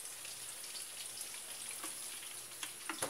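Margarine with a little olive oil fries quietly in a pan, a faint steady hiss with sparse crackles and a few small pops near the end, no talking.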